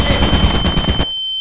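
Rapid gunfire from a gun in the video game Lethal Company, a loud burst of quick repeated shots lasting about a second, then cut off, leaving a steady high electronic tone.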